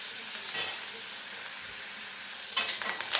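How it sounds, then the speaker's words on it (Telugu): Onions fry in hot oil in a pan for a mushroom curry, giving a steady close sizzle with stirring scrapes near the start and a burst of louder spatter and stirring toward the end, no talk. "ఉల్లిపాయలు వేగాయి"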